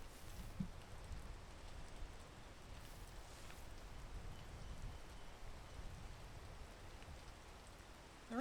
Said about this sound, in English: The rain just really doesn't like me today.